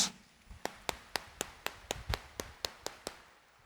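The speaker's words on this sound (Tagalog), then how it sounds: "itaas ang kamay at pumalakpak ng mas malakas" Inside Quiapo Church during a homily, about a dozen sharp claps ring out in a steady, evenly spaced rhythm, crisp but fairly quiet against a hushed background.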